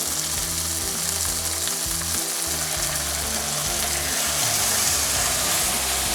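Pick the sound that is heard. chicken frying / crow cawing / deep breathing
chicken frying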